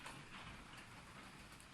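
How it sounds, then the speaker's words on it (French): Steady, faint rain hiss falls without pause, a dense even wash of drops with no clear gaps or voices. "C'est la pluie."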